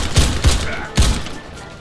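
Sten MK IIS submachine gun in the Warface video game firing three sharp, loud shots in an uneven rhythm, with a short gap between the first two and a longer pause before the third, each trailing off into a reverberant tail.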